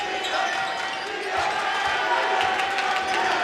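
A high school basketball crowd at a West Wolverines versus Fayetteville Bulldogs game roars and cheers loudly after a steal, with sustained shouting and whooping filling the gym and a commentator talking over it.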